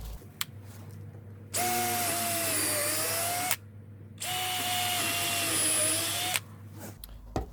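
A power drill drives a screw into the wooden frame of a sandbox in two sustained loud whirring bursts of about two seconds each, with the pitch dropping as the screw bites, then falling quiet between and after.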